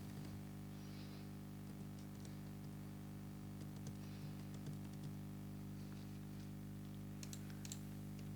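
Light, sparse typing on a computer keyboard, with scattered soft clicks over a steady electrical hum.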